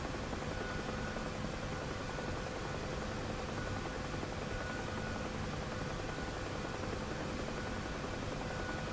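Huey helicopter in the DCS flight game, a dense, steady engine-and-rotor drone that holds at constant loudness throughout, with no voices over it.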